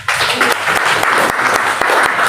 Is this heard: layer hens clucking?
no